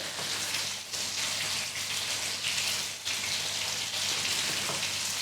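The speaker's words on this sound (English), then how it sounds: "It's been raining here. I love rain sounds." Steady rain falls outdoors as a dense, continuous patter and hiss with no pauses, fairly close and even in loudness throughout, with no voices.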